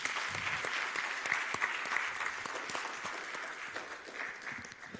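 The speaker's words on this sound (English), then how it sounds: "why don't we just give them another big round of applause?" Audience applause at a Christmas Sunday school musical, a steady dense clapping from a church crowd that holds fairly even and eases slightly toward the end, with no talk over it.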